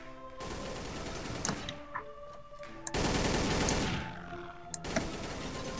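Automatic gunfire from the video game Codename CURE comes in several loud rapid bursts separated by brief pauses, with a few scattered clicks and pops between them.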